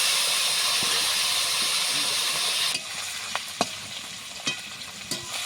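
Hilsa fish head and roe fry in oil, a loud dense sizzle that drops to a quieter crackle halfway through, with sharp spits and a few clinks of a utensil.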